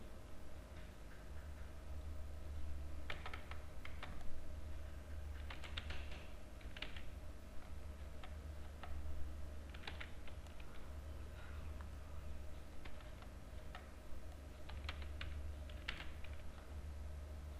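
Java code is being typed on a computer keyboard: soft, scattered key clicks and short bursts of keystrokes, faint and close, over a low steady room hum with no speech.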